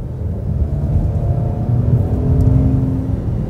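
Mercedes-AMG GLC43 Coupe with a V6 engine, a 2021 model in Malaysia, drones with a steady low rumble that swells slightly as it revs, loud and continuous without any talk.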